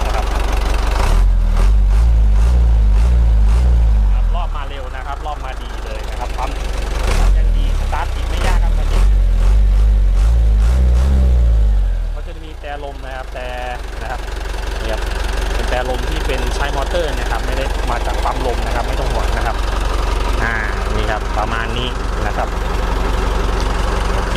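Isuzu NPR truck with a 115-horsepower engine, stationary, giving a few loud revs with deep rumbling surges before settling into a steady idle, while someone talks over it.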